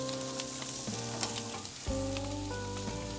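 Barbecued ribs sizzling on a grill after being turned, a dense steady frying crackle close by, with a sustained tonal hum shifting pitch underneath and no talking.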